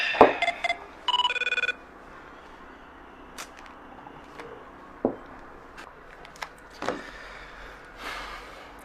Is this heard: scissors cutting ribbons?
no